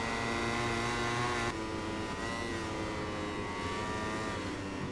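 A racing motorcycle engine in the video game MotoGP 21 at the British GP drones at high revs, its pitch dropping abruptly on an upshift to second and then climbing steadily, loud and continuous with no speech.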